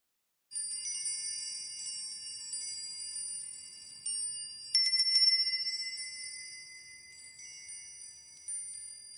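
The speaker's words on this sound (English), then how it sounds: "I'm now going to ring a bell to end the exercise." A bright bell is struck a few times to end a mindfulness meditation, each ring sustaining and slowly fading into a long shimmering tone in otherwise quiet surroundings.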